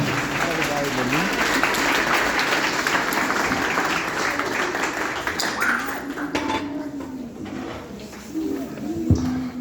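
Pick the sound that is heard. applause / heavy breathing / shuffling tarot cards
applause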